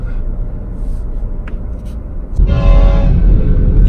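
A train blocking the road in Arizona, with a low rumbling roll that swells abruptly into a loud, sustained horn blast and rushing noise partway through, close by.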